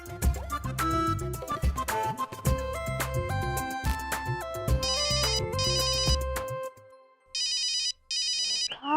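A melodic phone ringtone plays over music, with high electronic chirping bursts near the end as the ringing continues in short repeated patterns.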